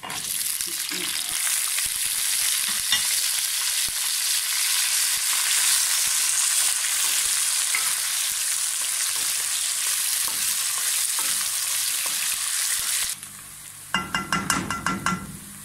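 Onions sizzle and fry loudly in a hot pan for chicken kabsa, a constant crackling hiss, ending with a few sharp clinks of a utensil against the pan.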